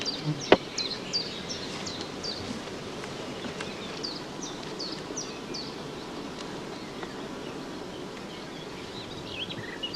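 Honey bees buzzing over brood frames during a hive inspection, a dense, continuous hum with individual bees zipping past close by, a sharp tap near the start, no talk.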